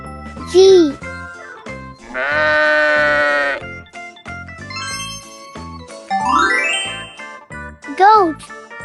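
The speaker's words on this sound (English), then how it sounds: "Goat." A series of farm animal calls plays in sequence, including a loud, wavering goat bleat, interspersed with bright jingling tones and a voice.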